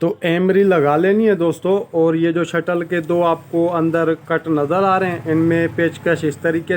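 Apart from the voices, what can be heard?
No everyday noise stands out behind the speech.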